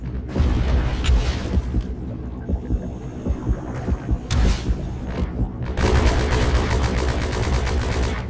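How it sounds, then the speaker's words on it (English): A shark in the underwater video game Depth smashing through a wall somewhere nearby, heard as repeated deep thudding booms and rumbling impacts over a low hum, with loud bursts of crashing noise. "He's breaking down a wall somewhere."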